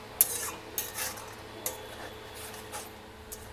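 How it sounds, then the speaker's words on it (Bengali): Yogurt-based fish curry ingredients being mixed in a pan over low heat, with a few soft, wet scrapes and light clinks from the spoon spaced irregularly. "এরকম করে ভালো করে মিক্স করে নিতে হবে।"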